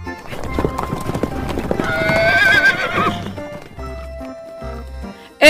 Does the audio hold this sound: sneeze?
no